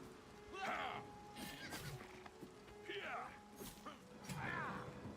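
Horse in the video game Oblivion Remastered whinnying several times in sharp, wavering bursts, with clip-clop of hooves and clattering between the calls.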